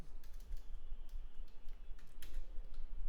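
Text is typed on a computer keyboard as a steady run of light, rapid keystroke clicks with small irregular gaps, close and fairly quiet, with no talking.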